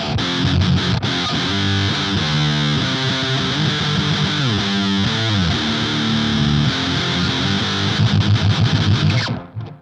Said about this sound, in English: if you run a fuzz into the rat, a distortion, you get a way different sound